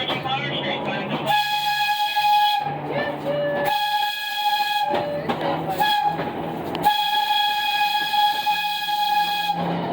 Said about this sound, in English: Y'all hear the sound of that whistle?